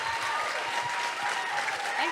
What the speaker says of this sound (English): Can we please get a round of applause for the lovely Maeve Higgins?